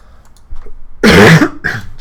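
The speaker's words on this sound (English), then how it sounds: "Sorry for my coughing, people." A man gives a couple of short, harsh coughs and a throat clear, close to the microphone, with a brief pause between bursts.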